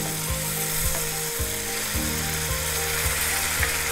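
Pepper paste sizzles in a hot frying pan, a steady close hiss running throughout alongside a repeating low mechanical clicking rhythm.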